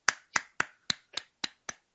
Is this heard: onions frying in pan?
no